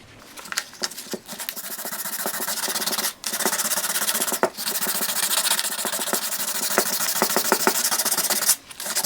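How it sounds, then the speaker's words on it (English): Hand sanding a metal motorcycle engine cover with 220 grit sandpaper: close, continuous scratchy rubbing strokes with a steady rasp, broken by a few brief pauses as the paper lifts off the surface. "now we're done going over this piece with the 220 grit sandpaper"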